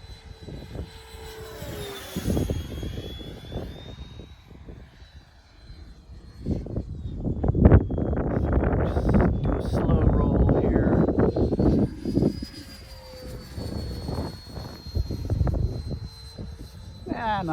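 A Freewing T-33 RC model jet making banked passes whines with a rising and falling turbine pitch, its rush swelling loudly mid-pass then fading, while someone talks over it.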